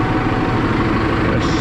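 Warmed-up Fendt tractor engine idling, a steady close low diesel rumble with no change over the short stretch.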